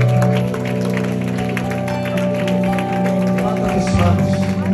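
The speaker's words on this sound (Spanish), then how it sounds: "Dale un aplauso a Cristo" A church congregation at a Spanish-language revival service in New Jersey applauds in steady, dense clapping that runs throughout, mixed with organ-like sustained tones and some voices.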